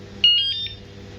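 Wireless anti-theft alarm fitted to a Xiaomi Mi Scooter Lite chirping as it locks: a short run of three or four loud, high electronic beeps, close by and with no voices over it.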